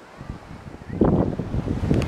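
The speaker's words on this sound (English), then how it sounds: "The wind is blowing like nuts." Strong wind buffets the microphone on a beach, a low rumbling gust that swells louder in the second half, with surf faintly underneath.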